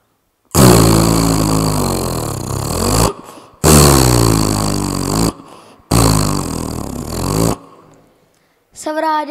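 A voice imitates an Arjun 605 tractor engine with three long, loud, throaty roaring bursts separated by short pauses, each droning steadily before cutting off.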